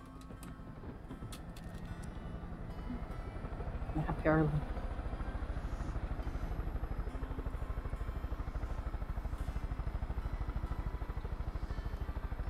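Helicopter in Far Cry 5 with its steady rhythmic rotor thump and engine drone throughout, fairly near and constant, while players talk briefly over it.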